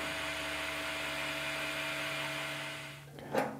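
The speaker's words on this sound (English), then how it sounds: "grab a piece of emery and just smooth out that turned surface" Emery cloth smooths a turned steel surface on a small spinning lathe: a steady motor hum with a faint rubbing hiss, fading near the end before a brief scrape.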